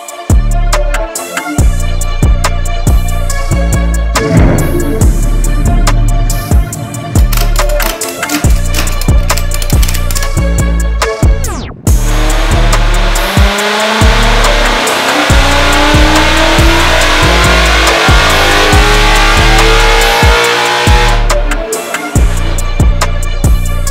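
Supercharged Ford Mustang GT fitted with a VMP Gen3R blower runs hard on a dyno, its loud V8 roaring steadily through repeated full pulls with brief lifts between them, close and continuous.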